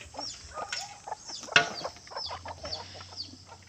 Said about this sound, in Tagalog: Pinapakain ng aking asawa ang mga manok.